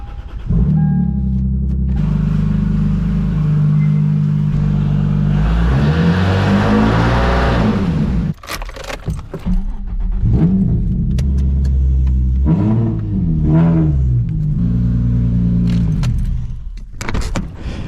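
A car with no power steering, about to go in for repairs, is started with keys jangling near the ignition, then the engine catches and settles into a loud idle. It revs up several times in rising and falling swells.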